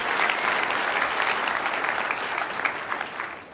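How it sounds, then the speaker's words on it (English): Steady, dense applause from a conference keynote audience at the Red Hat Summit, sustained clapping throughout with no voices standing out. "let's give them a big round of applause"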